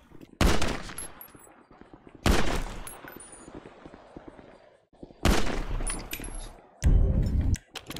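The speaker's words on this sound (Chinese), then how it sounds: "我拿机枪来扫" Bursts of machine gun fire in a GTA 5 zombie mod game, four loud sustained volleys separated by short pauses, with tinkling shell-casing sounds between them.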